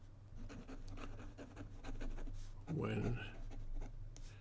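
A Montegrappa Gnomo fountain pen with a stub nib writing on paper, giving soft, close, scratchy strokes that carry on under a man's quiet speech.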